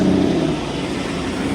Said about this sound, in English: Oh, the Vanquish S. Oh, that sounds good.